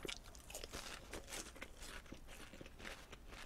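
A mouthful of crispy boneless Korean fried chicken is chewed in a steady run of close, crackly crunches that carry on for several seconds, quiet and without speech.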